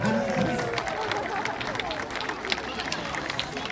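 Audience at a safari park sea lion show clapping for the animal, a continuous spread of applause from a crowd, with voices murmuring underneath.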